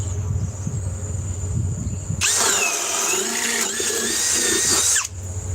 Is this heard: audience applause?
no